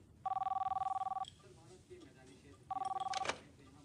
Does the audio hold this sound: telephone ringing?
yes